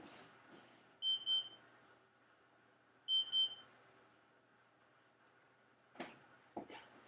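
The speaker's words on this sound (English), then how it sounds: "I had my gas fireplace serviced yesterday, and now it appears to be beeping." A gas fireplace, just serviced, gives two short pairs of high electronic beeps about two seconds apart in a quiet indoor room, followed by a few soft knocks and rustles.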